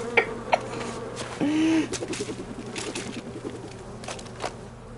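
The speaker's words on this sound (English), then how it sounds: "He's deflecting bees with it." A swarm of bees in the video game Metal Gear Solid Delta: Snake Eater, a faint busy buzzing with a few sharp clicks and one brief louder tone, set under quiet game sound.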